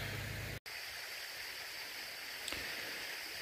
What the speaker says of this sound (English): It is gushing out some water.